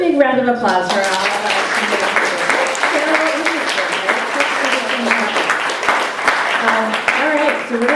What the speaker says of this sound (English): Big round of applause for all of us.